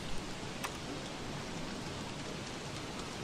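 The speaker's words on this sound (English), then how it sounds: "we'll just have to put up with the rain, I think" Steady rain in the video game Don't Starve, a constant soft hiss of falling drops across the whole stretch with no pauses, moderately loud and alone.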